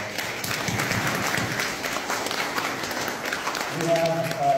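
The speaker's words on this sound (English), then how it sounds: "Please give them a round of applause." An audience claps for youth leaders at a formal fraternal gathering where officers of the Order of Amaranth are introduced, a moderate, fairly even patter that holds throughout, with a brief tonal sound near the end.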